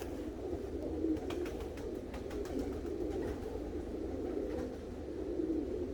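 Tippler pigeons coo softly inside a loft, making low, steady, murmuring calls with faint clicks and rustles, at a quiet level with no voices.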